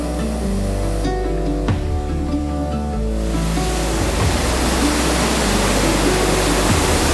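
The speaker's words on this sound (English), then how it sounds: "If you actually focus on one part of the waterfall, you realise how fast it's going and the power of that waterfall." A waterfall among trees rushes in a dense, broadband roar that swells louder partway through and then holds steady, close and constant with no voices.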